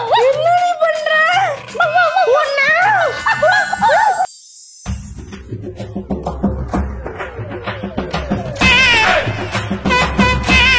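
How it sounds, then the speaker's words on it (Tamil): A dog yips and whimpers in short high-pitched bursts close by, with a pause, then more barking and whining as people talk and shout over it. "அங்க பாருங்க நாய்."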